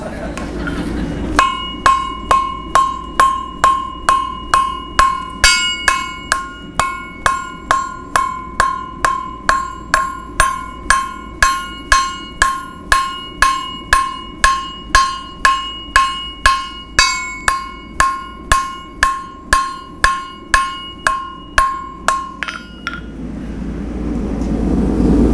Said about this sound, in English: Hold on, I forgot I'm forging a knife.